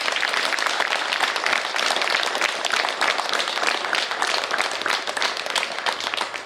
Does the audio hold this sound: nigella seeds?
no